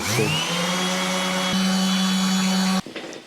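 A power sander working on an alloy wheel: a steady whining hum that rises as it spins up, holds a loud sustained tone, then cuts off abruptly near the end with faint scraping after.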